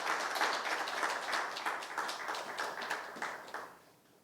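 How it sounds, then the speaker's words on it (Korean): A church congregation applauds in rhythmic, fairly quiet unison clapping, a steady pulse of claps that fades out toward the end. "참부모님께 감사의 박수 올리도록 하겠습니다"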